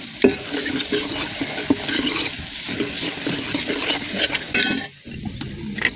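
Vegetables for saag sizzle and crackle in a hot pan with tempered spices while a utensil scrapes and stirs repeatedly, close and fairly loud.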